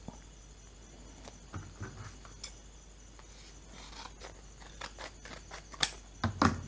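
Scissors snipping a folded strip of fabric for a Thai naga-style garland, scattered soft cuts and rustles building to a few louder, crisp snips near the end, with no speech.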